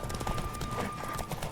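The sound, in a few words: horse galloping in video game The Witcher 3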